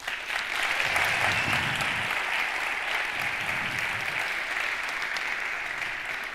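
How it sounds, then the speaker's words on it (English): An audience applauds the Venture Lab finalists at a startup venture day in Madrid, a dense and sustained wash of clapping that fills the room at an even level from start to finish. "So I want everyone to give a huge round of applause to our Venture Lab finalists."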